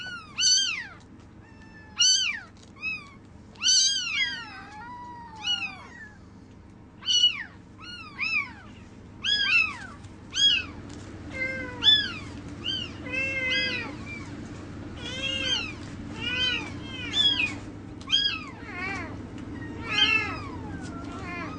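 Several cats in a Japanese animal pound meow again and again, with loud, close, overlapping cries coming every second or two above a low background hum.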